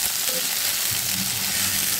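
Bain (eel) fish fry in hot oil in a pan, giving a constant close crackling sizzle with no pauses over the short stretch.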